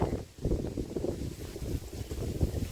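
Gusty wind buffeting outdoors in a rural village, a continuous low roar and rumble across the microphone rising and falling in waves, fairly loud and unbroken, no talking.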